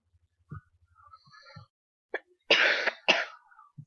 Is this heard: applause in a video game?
no